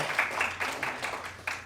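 Audience applause at a Lions Clubs forum, a short burst of scattered, moderately loud hand clapping from a crowd, pulsing unevenly over less than two seconds.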